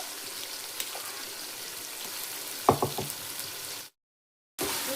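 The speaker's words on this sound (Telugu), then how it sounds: "ఇది కూడా ఫ్రై అవ్వనివ్వాలండి. బ్రౌన్ కలర్ వచ్చేంత వరకు అయితే ఫ్రై చేసుకోవాలి." Ginger, garlic and dry coconut paste frying in a pan, a steady soft sizzle with a few clinks of stirring, briefly cut to silence near the end.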